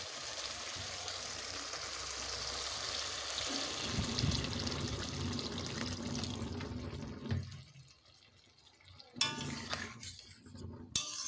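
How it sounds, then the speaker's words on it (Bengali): Water poured into a pan of oil-fried potatoes for a Bengali rohu fish curry with ginger-cumin paste, a steady rushing splash for several seconds that cuts off, followed by faint scattered clinks and quiet. "দিয়ে দেবো জল"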